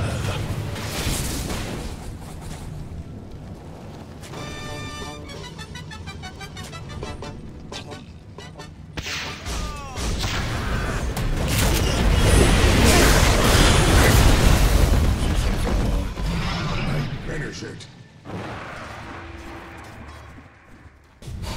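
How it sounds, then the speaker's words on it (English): A tower comes under attack in Dota 2, with a busy mix of hits, bursts and magical effects that swells into a loud, sustained roar mid-way before easing off. "Radiant's bottom tower is under attack."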